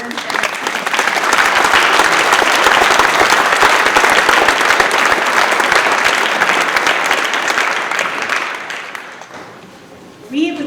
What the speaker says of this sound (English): I would just love to, again, give one more round of applause.